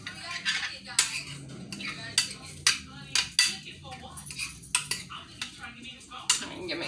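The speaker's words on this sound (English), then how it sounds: "All right, so let's do a little stir" Food being stirred in a pot with a metal utensil during home cooking, a run of close, bright clinks and scrapes against the pot sides in an uneven rhythm, with a voice speaking now and then between strokes.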